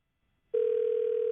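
A telephone tone on an outgoing call cuts in after half a second of silence, then holds as one steady, loud, unbroken pitch to the end, with nothing else heard.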